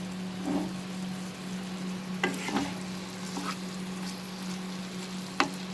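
Okra fries over a medium flame in mustard and poppy seed paste, a steady soft sizzle with occasional stirring scrapes and clicks, close but quiet, no talking.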